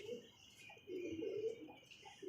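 Pigeons of a prized breed cooing softly at close range, a few low murmuring coos in short bursts against a quiet background.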